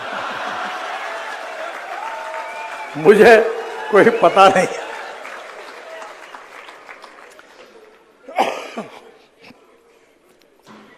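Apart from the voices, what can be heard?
audience clapping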